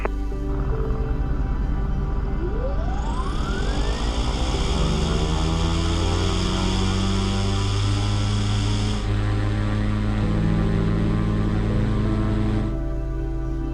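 Electric motors on an Alia aircraft run up on a runway at 80 percent thrust, a loud steady whine with rising tones and strong constant hum, held continuously without voices.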